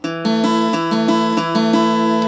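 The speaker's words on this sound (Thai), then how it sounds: "ให้พี่น้องเลยฟังเสียงพินตัวนี้ว่า" An acoustic phin, the Thai lute, played unplugged with no electric pickup, picks out bright ringing twanged notes in a steady rhythmic pattern over a sustained drone, close and clear with no voices.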